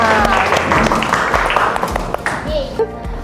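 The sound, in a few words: classroom applause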